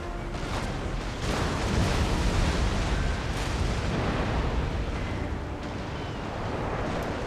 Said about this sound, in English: Let's try hitting this guy with some more chain shot just to slow him down a bit more.